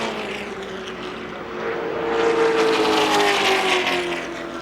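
Andy Houston's NASCAR race car grinds to a stop off turn 4 after hitting the wall at Daytona in the 2001 Pepsi 400, while other cars roar by in a loud, swelling blur of engine noise.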